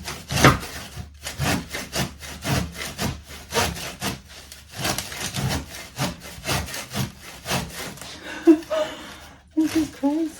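A hand saw works through hard material in steady back-and-forth strokes, close and rhythmic, with a short pause partway, accompanied by heavy breathing and brief vocal sounds.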